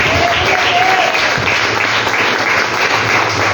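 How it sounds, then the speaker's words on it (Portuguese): A church congregation applauds steadily and loudly throughout, a dense wash of many hands clapping with no pauses. "Salva de palmas para ele, amém?"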